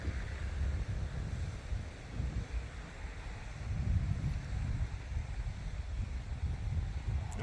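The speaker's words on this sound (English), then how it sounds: "We got about 10-15 mile an hour wind today." Steady wind buffets and roars at around 10-15 mph during a DJI Mini 4 Pro drone flight, a continuous low rushing noise with gusty swells and no talk.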